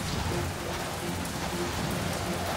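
Steady, dense rain pattering onto a surface outdoors, close and continuous with no voices, at an agility dog competition venue in Switzerland.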